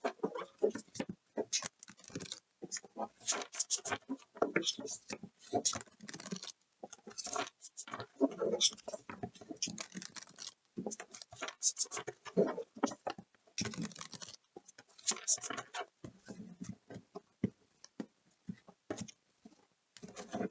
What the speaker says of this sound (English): So fairly easy to shuffle these cards.